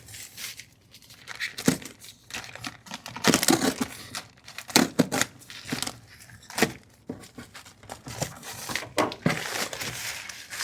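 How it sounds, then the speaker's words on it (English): Tape and a plastic covering are torn off a shipping box for a pair of roughout leather boots, giving close, irregular crinkling, rustling and ripping bursts with brief pauses between them. "Let's just open up the tape and the plastic"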